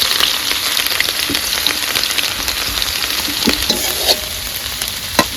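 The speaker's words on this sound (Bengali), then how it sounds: "প্রথমে দিয়ে দিলাম পেঁয়াজ কুচি" Chopped onion hitting hot oil after fish has been fried, for a Bengali fish curry, giving a loud, steady, dense sizzle with scattered sharp crackles and pops throughout, no voices.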